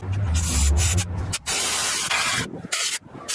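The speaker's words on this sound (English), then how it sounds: "Now I'm gonna actually hit everything with some compressed air with my little needle nose air nozzle." Compressed air blasting through a needle-nose air nozzle in loud sustained hissing bursts, cut by several short pauses, with a low rumble at the start.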